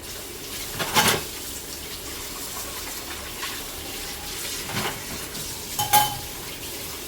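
Dishes clink and clatter against each other a few times while being handwashed in a kitchen sink, over a steady background of running water, with no talking.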